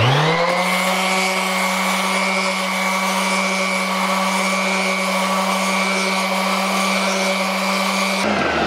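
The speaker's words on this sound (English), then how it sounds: "Then I'm going to bring in my orbital sander. 40 grit, orbital sander." An orbital sander fitted with 40-grit paper runs steadily, a loud, even motor whine with a constant rough grinding hiss, holding unbroken for several seconds before cutting off.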